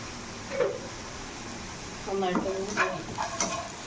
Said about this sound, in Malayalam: 2 മിനിറ്റ് ഒന്ന് ഇളക്കി കൊടുക്കുക.